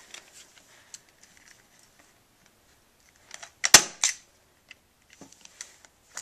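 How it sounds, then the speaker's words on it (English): A staple gun fires into canvas fabric stretched over a frame, a few sharp snapping clicks bunched together near the middle, close and loud, with quieter handling noises around them and no talk. "let me hold on to that and get the staple gun"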